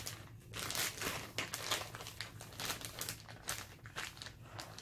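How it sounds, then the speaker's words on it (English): A plastic bag crinkles and rustles as it is pressed and smoothed over a diorama build, a close, continuous crackling with uneven bursts and no talk. "now I'm going to use this plastic bag as a little protection"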